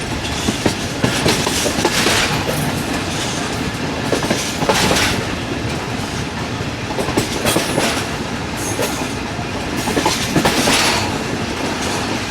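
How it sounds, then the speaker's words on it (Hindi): The Rehman Baba Express passenger train runs on rails in Pakistan between Hafizabad and Lala Musa, heard from on board as a loud continuous rumble. Recurring clickety-clack wheel beats swell periodically, with no voices. "ट्रेन यहाँ पर एक खूबसूरत सा कर्व लेगी।"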